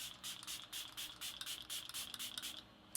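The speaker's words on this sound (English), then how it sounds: "I'm gonna take the CATRICE Prime and Fine Anti-Shine Fixing Spray." CATRICE Prime and Fine Anti-Shine Fixing Spray misted from a pump bottle in a series of quick, repeated hissing bursts, fairly close and with no talking.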